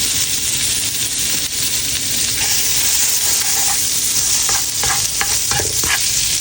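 Butter sizzles in a hot kawali pan, a loud, continuous close-up hiss with a few light clinks of a utensil stirring toward the end.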